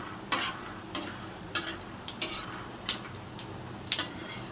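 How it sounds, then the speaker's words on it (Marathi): Peanuts are dry-roasted on a hot griddle while being stirred, producing sharp, irregular clinks and scrapes of a metal spatula against the pan over a quiet background, with no talking. "गरम तव्यावर शेंगदाणे खरपूस भाजून घेऊया।"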